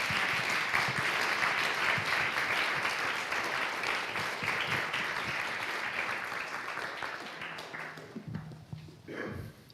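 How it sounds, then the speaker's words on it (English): An audience at a Venice 2023 architecture panel bursts into loud, sustained applause as three panelists take the stage, dense clapping filling the room before thinning toward the end. "please help me welcome our three panelists to the floor with a big round of applause"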